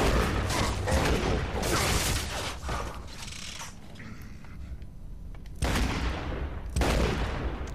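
Dense, loud gunfire and explosive bursts from the video game Gears of War 2 in Horde mode, with heavy volleys in rapid succession, a brief lull, then more sharp shots near the end.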